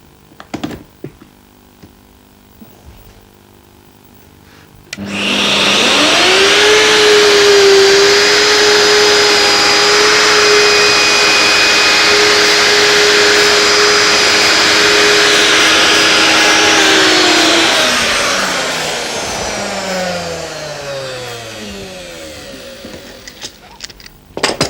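Wood router fitted with a 24mm guide bush and 19mm cutter spins up and cuts for about thirteen seconds, a loud steady whine with a whirring roar, then winds down; brief clicks are heard before and after.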